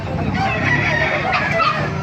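Chickens clucking and a rooster crowing amid a busy, noisy outdoor market scene in Baliuag, Philippines, with a voice speaking in the background.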